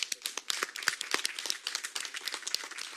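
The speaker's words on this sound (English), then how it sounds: "I want to give him a round of applause because he's here as well" A small group claps at a city council meeting, producing quick, sharp, separate hand claps in a brisk, slightly irregular rhythm, fairly close and without talk.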